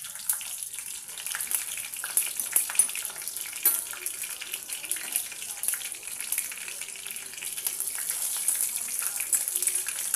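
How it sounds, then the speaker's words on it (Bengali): Panch phoron and two dried chillies sizzle in hot mustard oil, a steady crackling fry with bright spitting pops throughout, close and moderately loud with no talk over it. "পাঁচ ফোড়ন দিয়ে দিলাম।"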